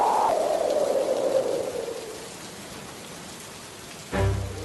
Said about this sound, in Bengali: দেখেছ কেমন ঝড় হচ্ছে সাথে শিলাবৃষ্টি